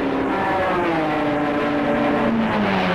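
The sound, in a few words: racing cars speeding around track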